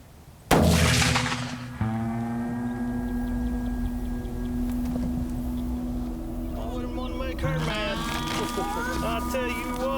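A single rifle shot rings out during deer hunting, a sudden loud crack whose rumbling tail fades over several seconds into a low steady hum, with voices following afterward.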